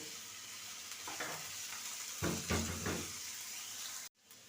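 Sliced potatoes and carrots frying in oil in a pan, a faint, steady sizzle with a few soft stirring scrapes in the middle, then a brief drop-out near the end.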